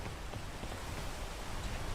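Rain in the video game PEAK as a soft, even hiss of falling drops, continuous and fairly faint, with no voices.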